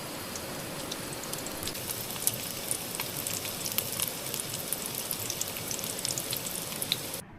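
Steady rain drums on a tent during a wild camping trip in the Galloway Forest Park, a dense continuous patter with scattered louder drops, close and unbroken, with no voices.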